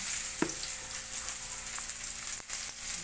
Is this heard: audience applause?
no